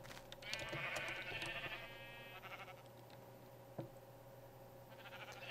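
Sheep bleat in Minecraft, a couple of wavering nasal calls up close, then quieter stretches with a soft thud before another faint bleat returns near the end.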